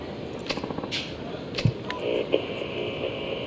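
Phone call signal in Yakuza 4, a short run of rapid electronic beeps and tones over game background noise, fairly loud, with a sustained tone later.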